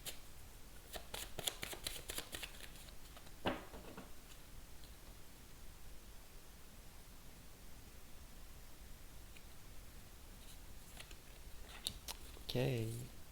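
Tarot cards being shuffled by hand, a quick flurry of crisp riffling clicks near the start, a single snap a moment later and another brief burst at the end, all faint and close in a quiet room.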